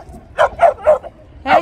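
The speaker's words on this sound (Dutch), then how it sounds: "Sinds wanneer blaf jij zo naar mij?" A dog barks close by in four short, sharp yaps, three in quick succession and one more after a brief pause, loud and clear with no talk over them.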